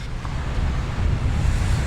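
Cold wind on the Transfagarasan mountain road in Romania, roaring steadily across the microphone as a dense, loud low buffeting rush with no voices.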